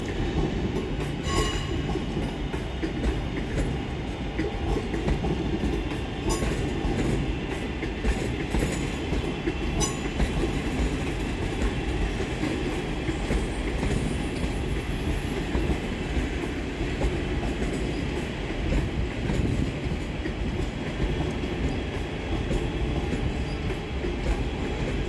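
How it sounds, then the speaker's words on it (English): Two coupled West Midlands Railway Class 323 electric trains pull out of Birmingham New Street station with a continuous loud rumble and wheel clatter, joined by faint high squeals under the station roof. "Next out is 323 201 and 323 242, working the 1225 West Midlands Railway service from Bromsgrove to Lichfield Trent Valley"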